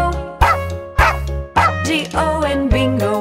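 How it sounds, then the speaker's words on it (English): Short dog barks ring out at regular intervals over a bright sung melody and music in a children's nursery song about a farmer's dog, loud and up front. "There was a farmer, had a dog, and Bingo was his name"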